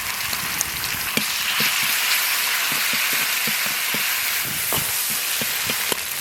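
Minced meat stir-frying with scallion, ginger and garlic in an oiled wok, a steady dense sizzle with scattered crackles and pops and occasional light clinks of stirring, close and continuous throughout.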